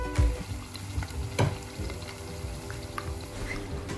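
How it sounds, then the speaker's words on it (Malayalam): Chicken 65 pieces fry in oil in a pan, giving a steady, close crackling sizzle with bubbling and an occasional scrape or stir. "പാനിൽ ആവശ്യത്തിനുള്ള ഓയിൽ ഒഴിച്ചിട്ട് ചിക്കൻ ഫ്രൈ ചെയ്തെടുക്കാം."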